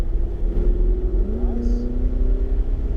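A Ferrari at Portland International Raceway accelerates down a straightaway, its engine note rising steadily in pitch from inside the car as a voice talks over it.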